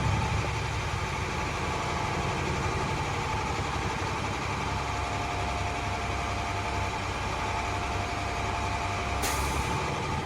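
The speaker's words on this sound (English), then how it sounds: "That's the governor cut off. That means my governor is working properly." An automatic truck idles steadily during a brake system inspection, its engine drone continuous, until a sudden sharp burst of hissing air marks the air brake governor cutting off near the end.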